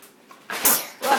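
A small child sneezes once, a short sharp burst with a softer second puff after, close by in a quiet room during a feeding.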